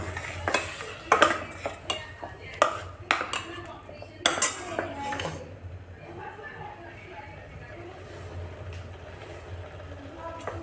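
Peas are tipped into a pot of spiced masala for tomato biryani and stirred, with sharp metal clinks and scrapes of utensils against the pot in a close, irregular burst, then quieter soft stirring.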